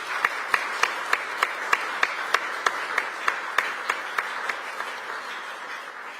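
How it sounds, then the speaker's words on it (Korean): An audience at an overseas Korean community gathering applauds to welcome the president and first lady, with dense, sustained clapping and a few sharp individual claps standing out in a regular rhythm. "큰 박수로 환영을 부탁드리겠습니다."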